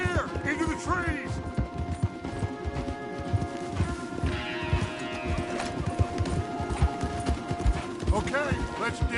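Horses' hooves clopping in a Lord of the Rings video game, a dense, continuous trotting rhythm loud and close, mixed with clanking gear and other game noise, with talk over it.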